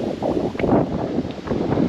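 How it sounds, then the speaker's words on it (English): Wind gusts across an open mountaintop and buffets the microphone in a continuous rough rumble that swells and eases in waves, loud and close. "It's so nice and breezy up here."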